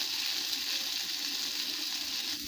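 Salt and turmeric sizzle in hot oil in a pan for a Bengali fish curry, a steady, dense hiss close by that holds without pause, with no talking.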